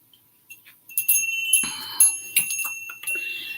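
Small bells struck several times, bright ringing tones with sustained high overtones, close and fairly loud, overlapping strikes with no talking.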